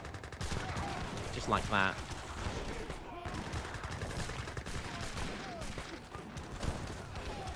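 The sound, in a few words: Gatling guns and cannons firing in Age of Empires III video game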